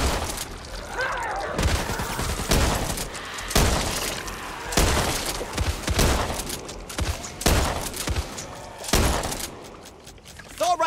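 Assault rifle fire in the zombie shooter Back 4 Blood rings out in repeated loud bursts, each a cluster of sharp shots separated by short gaps, with game ambience and scattered impacts between them.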